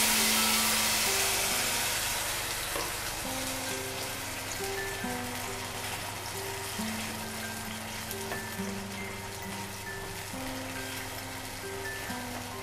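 Tomato puree sizzles in hot oil over a high flame, a dense, steady crackle and hiss like rain on a surface, continuous throughout with a background tonal hum.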